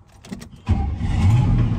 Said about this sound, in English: I'm going to take my new truck for a spin.